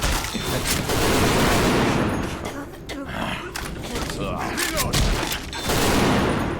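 Rapid gunfire fills a zombie horde fight in Left 4 Dead 2, loud sustained bursts of shots rolling almost continuously, with someone speaking over the shooting.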